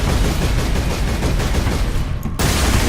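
Rapid, continuous bursts of fully charged plasma pistol fire in the video game Warhammer 40,000: Space Marine crackle loudly and densely, ending in a brief pause before the barrage resumes.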